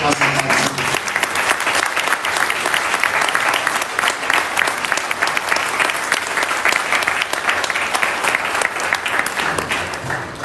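Sustained audience applause at a political speech, a dense wash of many hands clapping steadily for about ten seconds.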